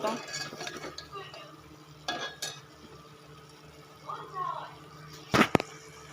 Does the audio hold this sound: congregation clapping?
no